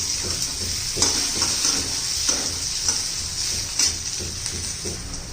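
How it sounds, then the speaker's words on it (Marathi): Diced potato sautéing in hot oil in a pan, sizzling steadily and up close, with occasional stirring scrapes and light taps, no voices. "छान असा बटाटा बघा तेलामध्ये परतला गेलेला आहे"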